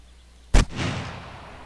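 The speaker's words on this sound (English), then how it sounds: "First, we'll try the AK-47" A single sharp AK-47 rifle shot from the video game 7 Days To Die cracks loudly and close, followed by a brief rumbling decay.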